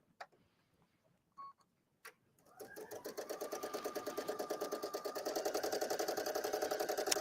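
Domestic sewing machine driven by a foot pedal, starting after a few faint clicks and settling into a steady, fast rhythmic stitching hum that speeds up toward the end, close and alone with no talk.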